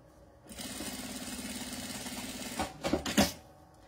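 A sewing machine runs a seam joining nylon lining to fabric for a women's document wallet, giving an even mechanical whir for about two seconds before a few quick, uneven clunks as it stops.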